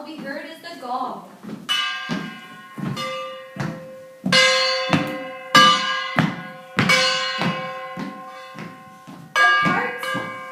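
Metallic percussion struck repeatedly during a Peter and the Wolf performance, each hit blooming into a long ringing shimmer with steady harmonic tones; about eight to ten strikes in an uneven rhythm, fairly close and loud, with no talking.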